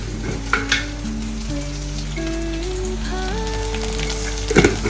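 Peas fry in a pan for poha with a soft, steady sizzle, and a few stirring clinks stand out. Quiet music plays in the background.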